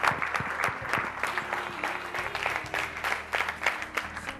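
An audience claps, a dense burst of applause with uneven swells that carries on throughout.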